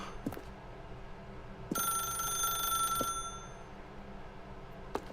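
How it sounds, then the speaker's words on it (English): A telephone rings once in The Stanley Parable, a bright electronic trill lasting about a second and a half, set against a quiet room tone with a few soft clicks. "If you can truly place your faith in another, then pick up the phone."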